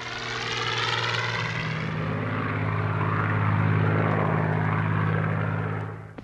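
A Rolls-Royce-engined Spitfire fighter plane from 1940 drones overhead with a loud, steady propeller roar that swells slightly midway and then fades at the end.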